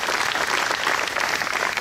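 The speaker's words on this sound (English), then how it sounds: "Let's have a round of applause for Sue." A brief, dense round of audience applause at a police swearing-in ceremony, steady clapping throughout.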